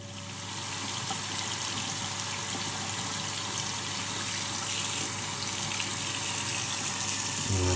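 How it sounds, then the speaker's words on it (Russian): Steady rush of running tap water over a metal-detecting find being rinsed with soap, a continuous broadband gush lasting throughout, close and fairly loud with no talking. "Потом обязательно с мылом промыть его проточной водой."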